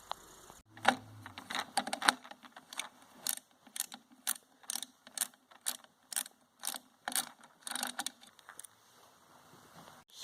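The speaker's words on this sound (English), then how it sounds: "So you will need a screwdriver for this, so I'm going to get a screwdriver and we'll install that." A screwdriver drives screws into the base of a Seville Ultra Slimline tower fan, making close, crisp ratcheting clicks and turning bursts in a regular rhythm of about a dozen short strokes with brief pauses between them.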